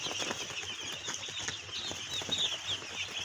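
Newly arrived broiler chicks on a farm, a dense chorus of high peeping and cheeping with occasional rustling of wings, steady and close.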